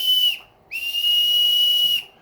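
A person whistles to a toy bird figure: a clear, steady high whistle held in two long tones, a short break between them, close and alone.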